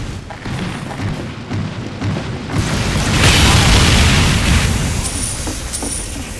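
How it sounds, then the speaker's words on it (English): Rockets get reflected and explode in a Team Fortress 2 Mann vs. Machine match, a dense run of booms and blasts layered with gunfire and chaotic combat noise, swelling louder midway, with metallic pings near the end. "I'll blast the rockets back at him."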